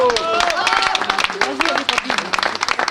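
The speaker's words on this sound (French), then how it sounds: "On peut l'applaudir" A crowd claps for a newly inducted guide at a carnival ceremony, steady applause under a voice speaking throughout, dense patter of hands filling the few seconds.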